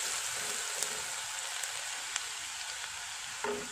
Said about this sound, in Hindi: लहसुन डाल देंगे और बहुत अच्छे से इसको